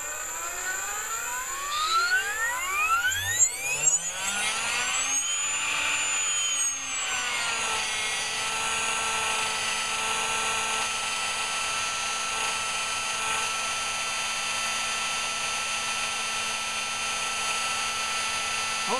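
A V-bar governed RC helicopter spins up and holds steady in its first governor mode at about 1050 RPM. A rising whine settles into a constant, loud mechanical drone with no talk.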